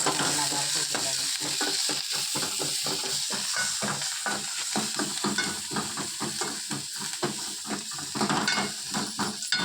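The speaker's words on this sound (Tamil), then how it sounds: "கடலை பருப்பு, ஜீரகம், தேங்காய் வந்து கழுவி நல்லா வறுத்து வச்சுக்கணும்." Chana dal, cumin and coconut roast in a pan, with quick rhythmic scraping strokes of stirring over a continuous close sizzle.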